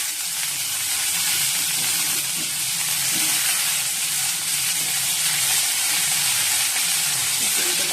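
White potatoes fry in a little oil with a Bengali five-spice tempering. The sizzle is close and hissy, a steady crackle holding an even level throughout, with faint low scraping now and then.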